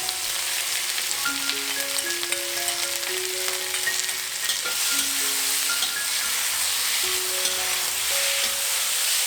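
Vegetarian mee goreng noodles stir-fried in a wok right after sambal goes in, giving a steady, close sizzle with scraping stirs, while a soft melodic tune plays underneath throughout.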